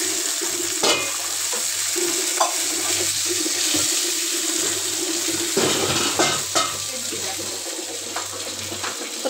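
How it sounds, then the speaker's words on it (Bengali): Rohu fish frying in a pan produces a close, continuous sizzle broken by scattered clicks and clatters, with a low hum running beneath it. "একদম সুন্দর করে ভাজা হচ্ছে।"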